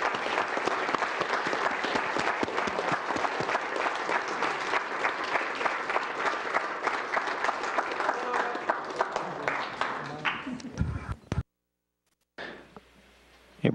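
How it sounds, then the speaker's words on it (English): A crowd claps and applauds steadily for several seconds, dense and loud, before cutting off abruptly near the end. "Let's all applaud their work up there."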